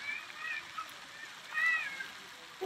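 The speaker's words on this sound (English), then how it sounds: "Let's sit and watch the waterfall a little bit" Steady waterfall flowing at a park, a continuous soft rush of water heard from nearby, with a voice and adult speech faintly in the background.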